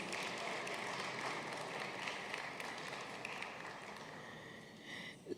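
Applause at an alumni gala fills the room as a steady, dense wash of many hands clapping, heard at a distance and fairly faint, with no talk over it.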